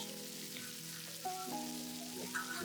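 Carnitas quesadillas, the pork slow-cooked in pork fat with cinnamon and orange, fry in a hot pan with a steady close sizzle and crackle, while faint shifting tones run underneath.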